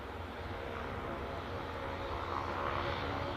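Aircraft at Aberdeen airport produce a steady, low engine roar that swells slightly toward the end, heard from a distance as a broad continuous rumble.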